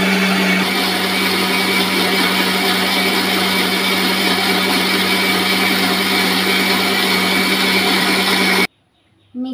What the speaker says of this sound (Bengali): মিক্সিতে পেস্ট করে নেব।